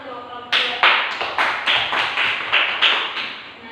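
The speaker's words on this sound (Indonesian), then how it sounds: "Tepuk tangan untuk kelompok 2." A classroom group claps for the second group: brief, loud applause in a steady beat of sharp, close, even claps.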